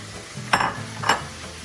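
Cut onions and tomatoes hitting a hot pan for lomo saltado: two short bursts of sizzling about half a second apart, close and moderately loud, over a low background hum.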